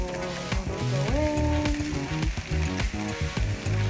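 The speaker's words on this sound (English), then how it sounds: "And now just saute the noodles for some" Hakka noodles and vegetables sauté in a hot pan, giving a continuous sizzle with bursts of tossing noise over tonal background music.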